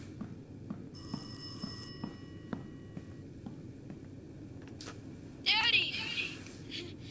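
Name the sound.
telephone ringing in Rise of Insanity video game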